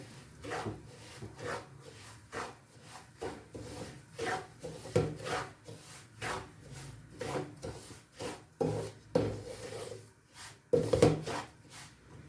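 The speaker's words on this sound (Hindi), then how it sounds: "सूजी को हमने लगातार चलाते रहना ताकि ये जले ना।" A spoon stirs semolina roasting in hot ghee in a pan over a medium flame. Soft, repeated scraping and rubbing strokes come up close in a steady rhythm, with no talking.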